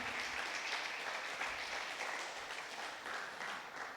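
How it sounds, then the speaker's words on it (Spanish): Church congregation applauding during a sermon, a soft, continuous patter of many hands clapping at a distance, fairly faint and steady throughout. "dele ese aplauso al Señor,"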